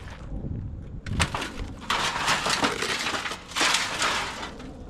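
A heavy steel plate drops onto a hard hat fitted on a big chicken statue in a yard, giving repeated loud crushing and cracking smashes with clattering debris, several impacts in quick succession, close and harsh.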